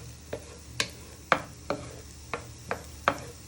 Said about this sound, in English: So you're just cooking your shallot and garlic